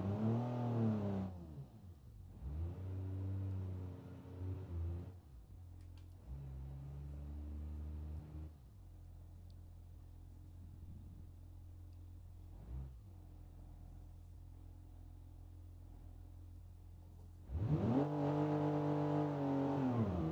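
A 3-liter inline-6 rear-wheel-drive car with a 3-speed gearbox accelerating down a quarter-mile drag strip, loud rising engine bursts with gear changes, a quieter idling stretch in the middle, then another strong revving pull at the end.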